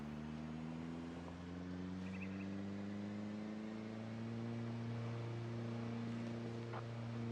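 Game car engine in Project Zomboid holding a steady droning hum at high speed, a continuous low tone with slight pitch shifts throughout, close and alone without talk.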